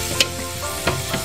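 Onions fry in bacon grease in a pan, giving a short burst of sizzle with a couple of sharp stirring clinks and scrapes. No one speaks.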